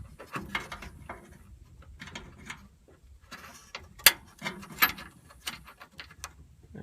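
A ratchet wrench works 18mm bolts off the rear bumper bracket of a Chevrolet Silverado, with irregular mechanical clicking and ratcheting bursts, a couple of sharper metallic ticks, and some handling clatter close by.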